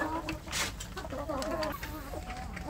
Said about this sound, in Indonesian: ini pagi hari ini saya sambil memberi makan ayam kampung saya sambil mengambil telur